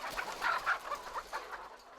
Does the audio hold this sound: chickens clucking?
yes